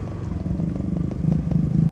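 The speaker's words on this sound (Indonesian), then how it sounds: "saya mau parkir motor dulu ya" A motorcycle idles and putters nearby while being parked, its low rhythmic engine pulse steady and close, with faint clatter and no talk.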